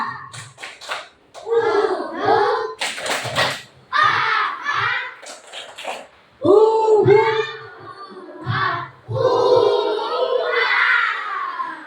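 A class of schoolchildren performs the tepuk rimba clapping chant during a classroom ice-breaker, voices chanting together in bursts with sharp group claps between lines, loud and close.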